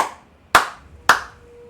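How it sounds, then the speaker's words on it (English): Hands clapping: three sharp, separate claps spaced about half a second apart, close and crisp, with a quiet background between them. "I'd stand up and clap."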